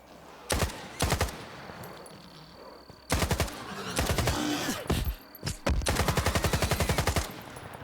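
Gunfire in the S.T.A.L.K.E.R. 2 video game comes as several rapid automatic bursts, some short and some long, with the last burst running on as a magazine is emptied. The shots are loud and close, with quieter ambient pauses between bursts.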